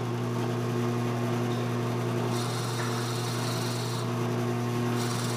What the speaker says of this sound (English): then I'm going to drill through